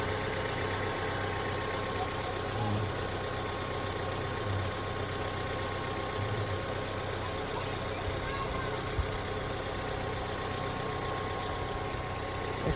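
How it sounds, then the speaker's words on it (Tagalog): A Mazda 3 engine idles smoothly and continuously at close range, a low even hum with faint mechanical texture throughout. "Tunog ng makina, ang ganda lang."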